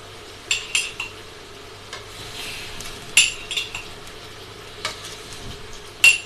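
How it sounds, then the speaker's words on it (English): Chicken kadai is flambéed in a pan in a home kitchen, with a soft steady sizzle under scattered sharp metallic knocks and scrapes of a utensil against the pan, close and without talk. "Flambeing. Try to get that inside of the pan as well there."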